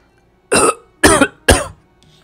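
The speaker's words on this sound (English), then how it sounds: "Professor Fumino suddenly starts coughing." A man coughs three times in a short, evenly spaced series, each cough harsh and close, from the video game Root Letter.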